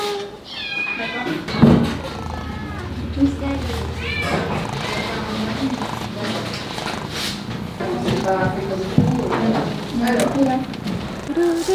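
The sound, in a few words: kittens meowing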